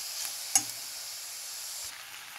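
Potatoes and panch phoron spices hitting hot oil, giving a steady, fairly quiet frying hiss with one small clatter early on, the sizzle fading slightly toward the end.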